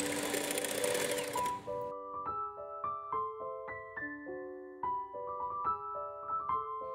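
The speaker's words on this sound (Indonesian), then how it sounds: "Lalu kita gunakan mixer untuk mengocoknya hingga soft peak." An electric mixer whips cream to soft peaks for an Oreo dessert box. A loud, buzzing motor whir runs for under two seconds and then stops, and a tinkly melodic tune plays afterward.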